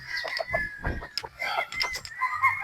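A pure roundhead gamefowl rooster with a straight comb calls up close, giving several short clucks and squawks in a burst of bird sounds with no talking.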